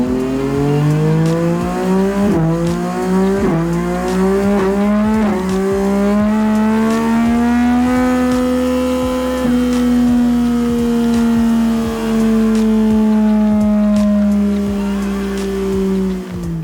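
A Yamaha MT-09 with an Akrapovic titanium exhaust and flashed ECU revs on a DynoJet dyno, the engine note climbing through several quick gear pulls, then holding a long loud high run before easing off, close and raw.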